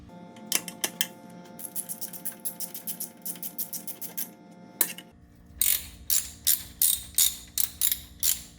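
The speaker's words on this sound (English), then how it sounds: "you can go ahead and use your ratchet So go ahead and snug them up." Ratchet snugging transmission pan bolts on a 2001 Ford Ranger, a run of quick metallic clicking strokes in steady rhythm, close and clear, pausing briefly before a second, sharper series of clicks.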